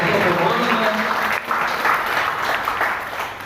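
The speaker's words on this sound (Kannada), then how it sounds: "ಬರೀ ಜೋರು ಚಪ್ಪಾಳೆ." Loud audience applause at a Rotary Silk City awards ceremony marking Doctors', Teachers' and Engineers' Day: a sustained wash of many hands clapping, close and steady, easing slightly toward the end.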